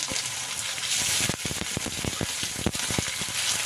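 Chopped onion sizzling in hot mustard oil in a pan, a dense steady frying hiss with repeated sharp crackles and spits up close, no talking.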